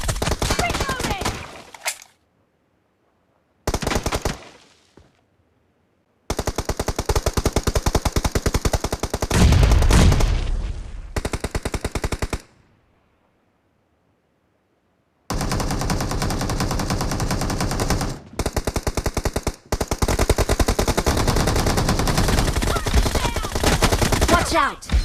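Machine guns in a video game fire loud, rapid, rattling bursts of several seconds each, broken by short silent gaps.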